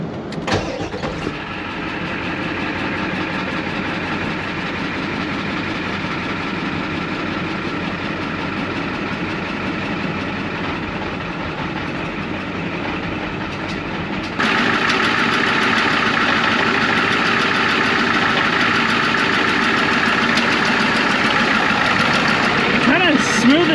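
A 1993 Ford F250 with an IDI diesel engine cranks and starts, then settles into a steady, loud idle that steps up in level partway through, with someone speaking over it.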